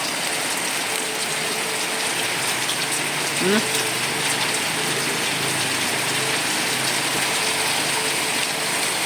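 Steady heavy rain hisses across the whole clip in stormy weather near a waterfall, with a brief mechanical creak partway through and a faint murmured voice.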